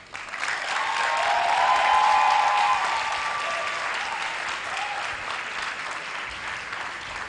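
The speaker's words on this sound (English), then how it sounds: "give the parents a round of applause" A crowd breaks into loud, sustained applause that peaks early, then gradually tapers off while staying dense throughout.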